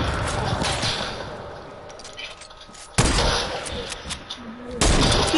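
Sniper rifle fire in a video game: two loud, abrupt shots a couple of seconds apart, with players chatting over the game.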